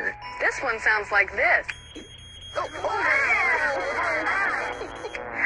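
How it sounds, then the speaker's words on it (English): A smoke alarm sounds with a loud, warbling electronic tone after a voice speaks, holding steadily for several seconds. "It's a smoke alarm."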